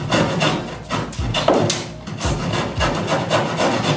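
Rough, rhythmic rasping strokes of a saw cutting through a wooden lintel, close by, each push and pull clearly separated, during renovation of a Japanese tatami room in an old house.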